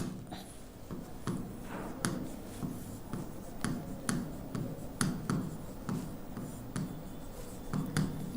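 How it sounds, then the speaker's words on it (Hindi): Chalk or a marker writes on a board in short taps and strokes at an irregular rhythm, close and quiet over a soft background hum. "तो यहाँ लिखते हैं हम"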